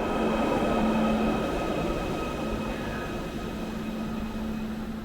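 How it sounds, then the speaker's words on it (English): A new train on the West Kirby line on the Wirral rumbles past in a steady, fairly loud roar with a faint high whine, slowly easing off over a few seconds. "we are starting to get some new trains over on the Wirral"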